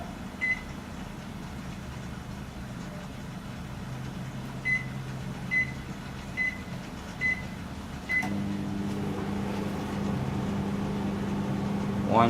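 A steady low hum of a microwave oven running on a DIY 48V inverter under stress test, with a series of short, evenly spaced beeps before the tone of the hum shifts partway through.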